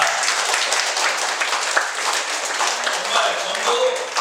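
A church congregation claps during a Sunday sermon, a brief burst of lively, somewhat uneven applause from a crowd with a few voices mixed in.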